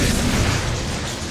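A dense, rumbling explosion blast in the video game inFamous fills the moment, loud and close, its low roar holding steady before easing slightly as it fades.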